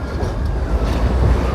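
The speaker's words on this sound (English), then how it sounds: "the sound of that tram was also different from the other Tatras I was riding earlier" An old Tatra tram runs through Sofia, filling the space with a continuous close rumble and rattle of wheels and car body, steady and fairly loud throughout.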